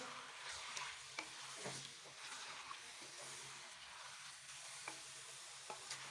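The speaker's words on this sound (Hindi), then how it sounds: "तो सबसे पहले हम चिकन को इस ऑयल में फ्राई करेंगे जब तक कि चिकन का कलर चेंज ना हो जाए।" Chicken sizzles in hot oil in a home kitchen pan for a chicken dish with creamy sauce, a steady faint frying hiss with occasional stirring clicks and pops throughout, no talking.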